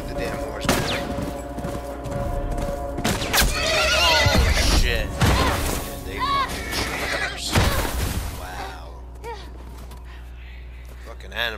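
A horse neighs loudly and repeatedly in The Last of Us video game, its whinnies mixed with bursts of gunfire, sharp cracks and hoof clatter, while voices shout over the chaos.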